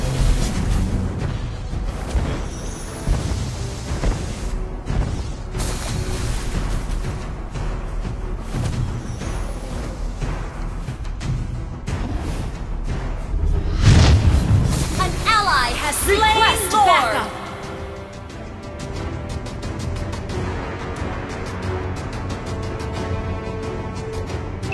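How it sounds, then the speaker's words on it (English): Turret destruction in the mobile game Mobile Legends, with booming explosion bursts and dense battle effects, loudest mid-clip, mixed with in-game announcer voice callouts. "Our turret has been destroyed."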